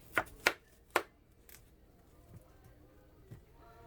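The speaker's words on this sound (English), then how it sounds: "we're going to take the knife and we're going to cut" A knife cuts through an onion on a board, three sharp crisp chops early on, then a few softer faint taps, close and otherwise quiet.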